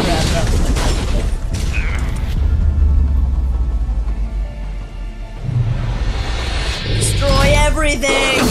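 A dumpster is hurled and crashes in The Wolf Among Us, Episode 3, giving heavy booming impacts and a deep rolling rumble with clattering metal, loud and close throughout.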